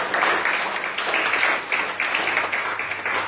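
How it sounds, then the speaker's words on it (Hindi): A church congregation claps during a worship service: several seconds of lively, rhythmic group clapping in pulsing waves, fairly loud and close, with a faint low hum beneath and no clear speech. "और जो ताली बजाए जैसे हालेलुया।"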